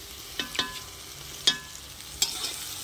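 Tomato tipped into onions frying in a pan, giving a few sharp clatters and scrapes of stirring over a soft, steady sizzle of hot oil, close and fairly quiet with no talking.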